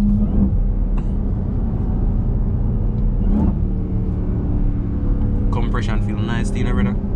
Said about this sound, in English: that supercharger sounds so sick